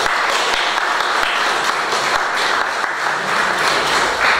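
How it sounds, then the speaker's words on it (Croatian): An audience at an art colony exhibition opening gives a big round of applause, loud and sustained dense clapping that fills the room without letting up. "Ja vas molim jedan veliki aplauz za naše kolege umjetnice."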